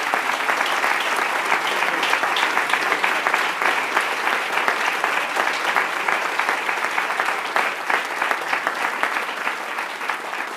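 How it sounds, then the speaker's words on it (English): Audience applause at a Harvard Medical School celebration event, steady dense clapping from a large crowd sustained throughout without letup. "One more round of applause for if you could."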